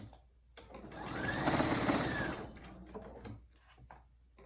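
Sewing machine stitching along the edge of fabric under the presser foot for a rescue microbat pouch, a steady motor whir rising and falling over a couple of seconds, fairly close, with no talking.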